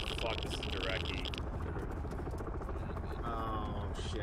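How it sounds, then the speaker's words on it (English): A video game helicopter flies off into the distance, its rotor rumble and whine fading under ongoing background noise as a voice talks over it. "Sounds like that chopper's buggering off."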